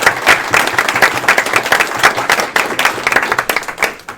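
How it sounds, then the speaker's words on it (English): Audience applause at a federal election debate night in Chatham-Kent–Leamington, a dense steady burst of many hands clapping throughout, loud and close, with no talk over it. "Big round of applause for them, please."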